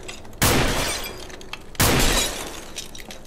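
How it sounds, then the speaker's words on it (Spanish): Two sharp bursts of shattering glass from gunshots in a video game, about a second and a half apart, each crash followed by a ringing, scattering tinkle of fragments. "Si disparo, puedo romper esos cristales."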